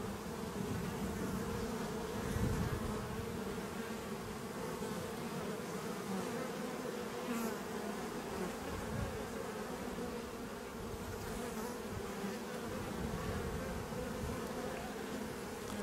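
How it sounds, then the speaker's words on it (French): A dense, steady hum of many honeybees buzzing close by as they tend brood on a hive frame, continuous and even throughout with no voices. "Donc là on voit les abeilles qui s'occupent du couvain"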